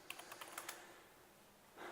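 Quick bursts of key taps on a computer keyboard, about six soft clicks in the first second, then quiet with a faint rise of room noise at the end.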